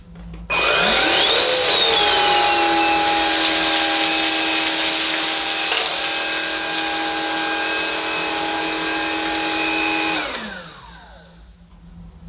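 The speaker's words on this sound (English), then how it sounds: "we'll pass the cleaner through the middle of this dirt here on the low setting" Rowenta X-Pert cordless vacuum cleaner running on its low setting, a steady whirring motor hum with a whine that rises at start-up, holding for about ten seconds before spinning down, close and alone.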